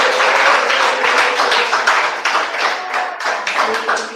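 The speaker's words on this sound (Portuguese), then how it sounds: "Recebemos ela com mais palmas." A church congregation gives loud, close applause, a thick burst of many clapping hands that pulses unevenly and keeps going without pause.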